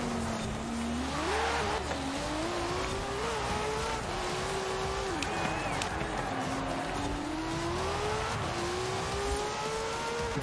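A Ford Transit Supervan 3 in Forza Horizon 4 accelerates hard, its engine note climbing steadily through gear changes and staying loud and continuous with a faint tire squeal underneath.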